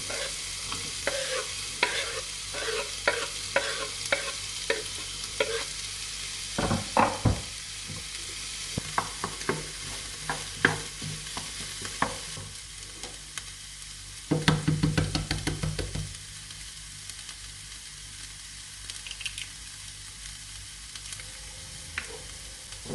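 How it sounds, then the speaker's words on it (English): Onions frying in a pan for scrambled eggs with stinging nettles, a steady broad sizzle throughout with repeated scraping stirs and a louder burst of crackling partway through, no voices. "First add the onions."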